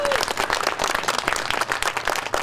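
Crowd at a flagpole raising ceremony claps and applauds the U.S. Coast Guard, a close, steady patter throughout.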